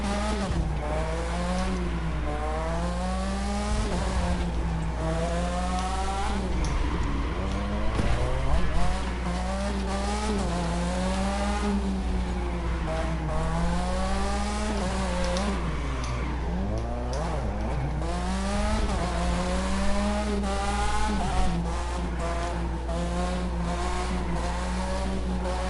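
Car drifting on the road, engine revving high with wavering pitch while tires squeal and skid continuously, loud and close, with the drone steady throughout the long run.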